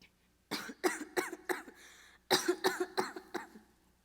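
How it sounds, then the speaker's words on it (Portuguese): A person coughs in two bursts of repeated hacking coughs, close and fairly quiet, during a staged family scene in a Brazilian musical stage performance. "Uma tosse boba, logo passa."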